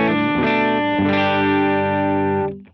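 Electric guitar played through a Lauren Audio Mustang GT overdrive pedal alone, with reverb and delay off: two loud, gritty overdriven chords sustain thickly before cutting off.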